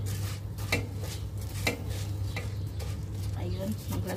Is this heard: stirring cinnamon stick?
yes